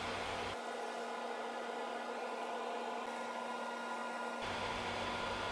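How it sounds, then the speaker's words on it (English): A Forstner bit bores out the middle of a cedar-shavings-and-resin blank on a wood lathe, giving a steady, loud whirring drone that begins and ends abruptly around a continuous hum, with no talking. "I have a Forstner bit helping to hollow out some of the middle"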